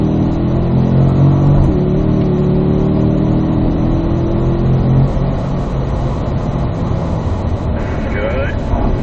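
A Corvette on a race track accelerates hard in fourth gear, its engine note rising in a loud, sustained mid-pitched roar close to the car, with an instructor's voice speaking over it.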